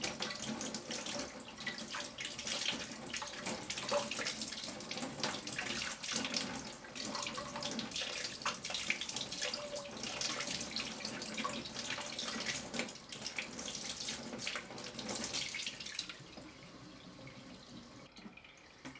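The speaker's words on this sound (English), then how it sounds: "we need to wash the salty mustard very carefully and use the water to wash away the sand hidden in the leaves" Salted mustard greens are washed under running water from a kitchen tap, a steady close splashing flow with soft sloshing of leaves that goes on for about sixteen seconds and then drops away, no speech.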